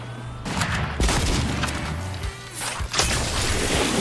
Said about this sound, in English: He used a grenade.